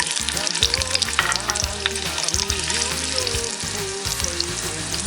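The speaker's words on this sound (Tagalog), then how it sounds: "i-fry po natin itong mga hot dogs muna" Hot dogs fry in hot oil with a dense, continuous crackling sizzle, loud and close, accompanied by a steady underlying rumble and occasional tonal hums.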